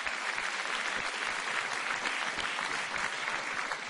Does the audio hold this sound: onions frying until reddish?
no